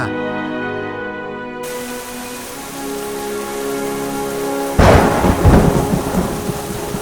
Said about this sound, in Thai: เสียงคำรามของท้องฟ้าดังก้องเหมือนเสียงอสูรร้ายที่หมายเอาชีวิตทุกคน ฟ้าแลบ